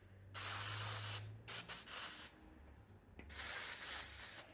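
Aerosol brake cleaner hisses in several bursts, two long sprays and a few short ones, blasting grime out of a dirty DeWalt reciprocating saw; the sprays are close, with quiet gaps between them.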